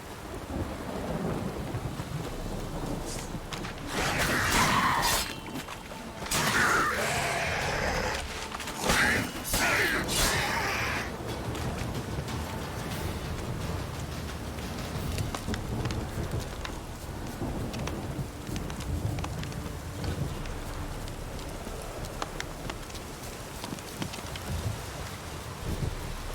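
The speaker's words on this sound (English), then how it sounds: "This downpour's a bastard, it is." Heavy rain downpour with thunder, a constant hiss of rain on surfaces broken by several loud rolling thunder cracks early on, then easing into steady rainfall.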